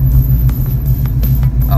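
A 1973 Dodge Challenger with a freshly built 340 V8 idles close by, a steady deep rumble with rhythmic low pulses and no talking.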